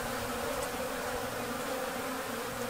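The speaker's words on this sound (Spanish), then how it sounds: "Invasión de abejas." A dense, continuous buzzing of some 40 to 50 bees fills the air at close range at a campsite in Baja California, steady and unbroken.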